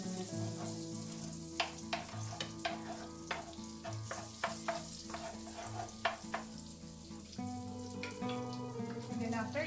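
Butter with a little cooking oil sizzles in a pan, a soft steady frying hiss overlaid by repeated clicks and scrapes of a utensil, fairly quiet and close without talk.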